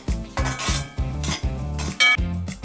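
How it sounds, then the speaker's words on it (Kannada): Grated coconut and turmeric powder being roasted in a pan for Mangalorean chicken sukka: a metal spatula scrapes and clanks against the pan in about five quick, rhythmic strokes, close and clear with no talking. "ಬಾಣಲಿಗೆ ಸ್ವಲ್ಪ ಕಾಯಿ ತುರಿಗೆ ಅರಿಶಿಣ ಪುಡಿ ಹಾಕಿ ಹುರಿಬೇಕು."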